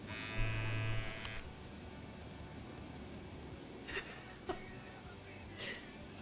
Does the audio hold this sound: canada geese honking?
no